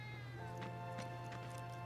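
Several cats meow in the video game Final Fantasy VII Remake, a few short, moderately faint cries spaced over a steady low hum, with no talking.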